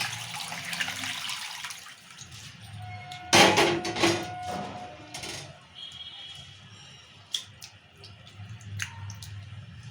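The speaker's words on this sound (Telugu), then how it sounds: "ఇప్పుడు ఇట్లానే ఖాళీ నీరు పోసుకోవాలి" Water is poured over rice in a bowl to wash it for chicken biryani, a brief close splash and slosh followed by soft drips and quiet kitchen noise.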